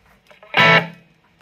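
Electric guitar played through a Marshall MG15R practice amp set to its clean channel: a single bright strummed chord rings out loudly and decays over about a second, with faint quieter notes before it.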